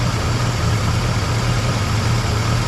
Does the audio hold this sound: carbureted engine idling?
yes